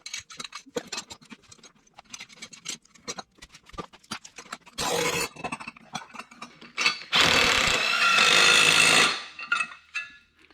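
Ratchet and power tool clicks bolting steel plate brackets together for a homemade pit bike snow bike, with scattered sharp clicks followed by two sustained loud mechanical whirring bursts.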